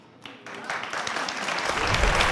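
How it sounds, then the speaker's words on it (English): A television studio audience breaks into applause and cheering that swells from a quiet start into a loud, dense, sustained roar of clapping. "You can see the audience even cheering after Dr. Phil throws a slight roast at her"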